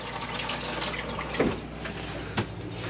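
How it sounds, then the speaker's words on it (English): Hot water runs from a tap in an Auto Trail Expedition C72 motorhome, a steady close splashing rush with a couple of brief clunks and knocks. "There's your hot water coming through there,"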